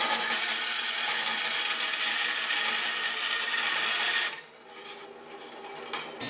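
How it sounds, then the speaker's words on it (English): A metal bracket for the front air strut of a 1976 Mazda RX-5 Cosmo is cut to length, giving a steady, harsh rasping scrape close by. The scraping stops sharply after about four seconds, leaving quieter background noise. "Now I just need to cut it to 4 inches."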